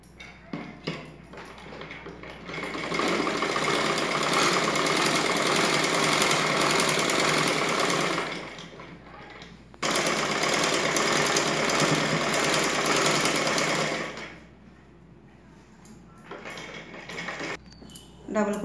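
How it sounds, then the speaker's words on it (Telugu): Sewing machine double-stitching the gathered puff sleeve of a blouse, running in two steady mechanical bursts with a brief pause between, then falling to quieter handling and low background noise. "ఇప్పుడు మనం డబుల్ కుట్టు వేసుకుందాము."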